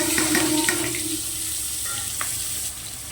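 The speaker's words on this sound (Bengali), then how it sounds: "পেঁয়াজটা বেশ ভালো করে লাল লাল করে ভেজে নেব।" Chopped onion and tomato frying in a pan on a gas stove, a steady close sizzle with a few stirring clinks and scrapes, sound easing slightly toward the end.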